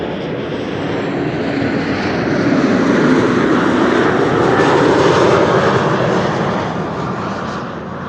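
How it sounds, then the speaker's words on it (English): A KLM Embraer 190 jet arrives at Amsterdam Schiphol, its engines producing a loud, steady broadband roar that swells toward the middle and eases slightly as it passes. "Next up is an Embraer 190 KLM flight 1352 arriving from Prague in the Czech Republic"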